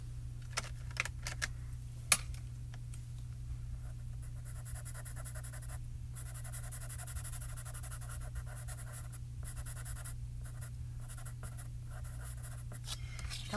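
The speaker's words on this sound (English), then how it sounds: "I'm going to bring in my Stabilo Carbothello chalk pencils" Stabilo Carbothello chalk pencils colour in small areas on paper, a soft, steady scratchy scribbling with brief pauses and a few light taps, over a constant low hum.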